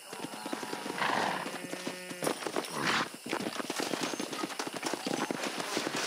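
A horse in the Red Dead Redemption video game clip-clops steadily at close range and lets out a loud whinny, with the hoofbeats continuing throughout.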